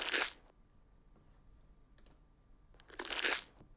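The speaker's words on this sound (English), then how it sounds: "Scrunching up a plastic wrapper." A plastic wrapper is scrunched up close by in two quick, crackling bursts separated by a quiet pause with faint ticks.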